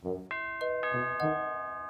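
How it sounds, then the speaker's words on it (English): A doorbell chimes several times in quick succession, bright ringing tones that overlap and linger, with nothing else heard. "it was hard to sleep when the doorbell was ringing all the time"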